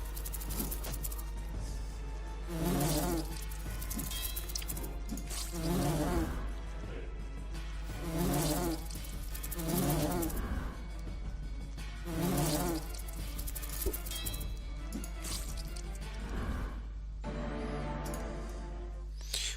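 Wasps buzz in the Xulima video game, a droning hum that swells in regular pulses over a steady low background, with no voice over it.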